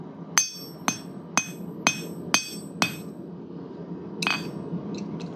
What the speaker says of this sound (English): I'm hitting half on the anvil and half off because I want to push the material out.